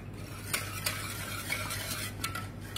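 Four eggs are beaten with milk for a steamed banana bread pudding, quick whisk or spoon strokes clinking against a bowl in irregular bursts over a low steady hum, close and without talk.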